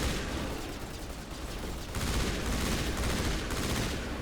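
Rapid sustained gunfire from cryo rounds in the video game Mass Effect, dense overlapping bursts of shots that run continuously and loudly with a brief intensification midway.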